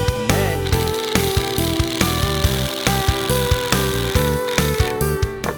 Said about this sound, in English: you start drilling nice and slow